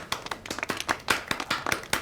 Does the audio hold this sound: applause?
yes